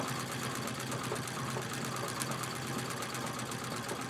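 A domestic sewing machine free-motion quilting feathers on gold fabric runs in a steady, even mechanical whir throughout, fairly quiet and continuous with no talk.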